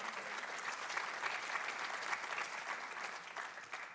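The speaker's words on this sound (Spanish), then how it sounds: "denle un aplauso a Dios, ¿por qué no?" Steady applause from a church congregation during a service, a sustained dense patter of many hands clapping at moderate distance with no speech over it.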